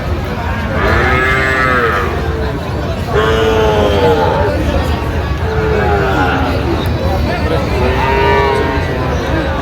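Several loud Sahiwal cattle moos, each drawn out, repeat every few seconds over a busy background of crowd chatter and shuffling at a cattle market.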